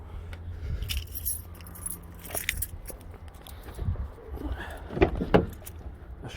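Metal keys jangle and clink intermittently up close, with a few louder rattles amid low background rumble.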